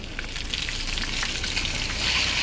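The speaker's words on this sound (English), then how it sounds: "sizzle, sizzle" Fish sizzling loudly in a frying pan, a constant crackling hiss with small pops, close and steady.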